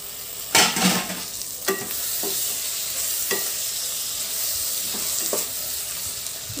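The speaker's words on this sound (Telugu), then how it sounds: "మనకి ఆనియన్స్ బాగా ఎగిపోవాలి ఇందులోనే కొద్దిగా కొత్తిమీర వేసుకోవాలి కొద్దిగా పుదీనా" Onions frying in oil with coriander and mint leaves make a steady, close sizzle, punctuated by several sharp scrapes and clatters of a spoon stirring the pan, with a louder burst near the start and no talking.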